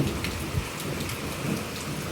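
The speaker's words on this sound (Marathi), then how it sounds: "स्लो झाला आहे पाऊस हवा जास्त सुटली त्याच्यामुळे नाही का" Heavy rain of the first monsoon downpour pours onto surfaces in a dense, loud, continuous roar with gusting wind and no voices.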